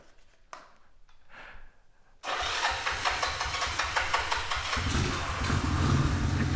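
A motorcycle engine with its fuel tap shut off cranks with a few faint attempts and fails to catch, then surges into a loud, steady running roar that holds close and continuous.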